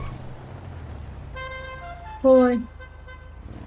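A car horn in GTA Online gives one short, loud blast over a bed of synthetic music, with a brief spoken word before it.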